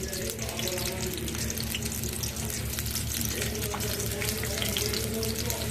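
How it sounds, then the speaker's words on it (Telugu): Chopped onions sizzling in hot oil in a pan for browning, a steady dense hiss that runs throughout with no pauses, loud and close, with a low hum beneath it. "ఆయిల్ అయితే వేడైందండి మంచిగా. ఆనియన్స్ వేస్తున్నాను."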